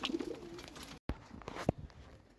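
Khaki pigeons coo softly nearby in low murmuring calls. The sound cuts out briefly partway through, and a short sharp knock follows.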